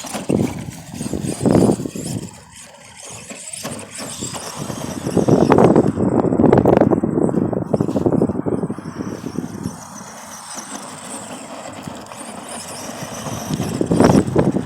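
An Arrma Granite RC car running on a 2S LiPo battery with a 19-tooth pinion in an open field, its electric motor whining and rising and falling in pitch as it speeds up and slows down, fairly loud throughout.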